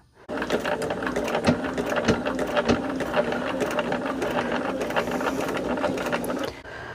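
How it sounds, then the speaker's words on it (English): A sewing machine runs steadily while stitching quilt pieces for a flowering-pattern quilt, a continuous mechanical whir with rapid needle clicks. It starts after a short pause and stops abruptly near the end. "the idea right now is just to sew, and that's what I'm doing. I'm just sewing"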